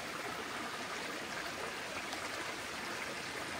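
Steady rushing muddy runoff water flows down from the hills without pause, a broad continuous wash of sound like a stream running downhill.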